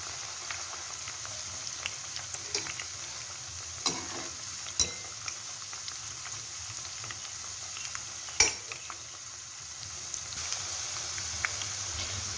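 Corn fritters fry in oil with a soft, constant sizzle, broken by scattered light taps and one sharper knock as the batch is stirred.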